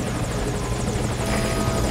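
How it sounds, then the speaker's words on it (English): An enemy helicopter in Metal Gear Solid V hovers close by, its rotor chopping rapidly and evenly over a dense, loud engine roar that holds steady, with no voices. "Focus all your fire on that enemy chopper."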